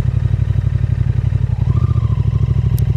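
Royal Enfield Interceptor 650 parallel-twin fitted with an aftermarket Power Age muffler, recorded while riding: a close, loud, steady rhythmic exhaust thump with a deep pulsing beat and no talking.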